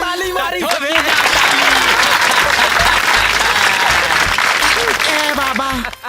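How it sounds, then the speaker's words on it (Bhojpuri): Loud, dense clapping from a crowd in a Bhojpuri film scene (Baazigar, 2022), sustained for several seconds with voices and bits of music over it before it thins out at the end. "महाराज ताली मारी।"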